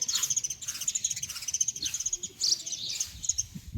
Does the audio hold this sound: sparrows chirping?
yes